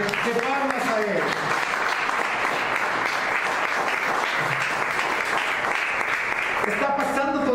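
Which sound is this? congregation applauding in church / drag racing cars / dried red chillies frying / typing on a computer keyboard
congregation applauding in church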